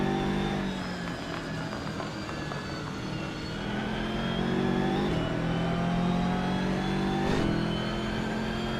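A BMW M2 race car engine in a sim racing event, revving steadily at close range with rising and falling pitch as it shifts through gears, with no talk over it.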